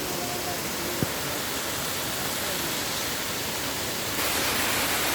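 Steady broadband roar of the waterfall at Cascata delle Marmore park in Italy, a constant dense rush of falling water that swells slightly louder near the end, with a single brief click partway through.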